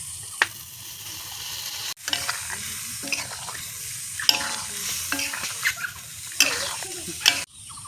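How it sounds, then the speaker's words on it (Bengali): Goat tripe sautéed in a pan sizzles and hisses as a spoon stirs and scrapes, with water poured in for boiling and intermittent clatters over a steady fry. "আমরা এখন সিদ্ধর জন্য দিয়ে দিব জল।"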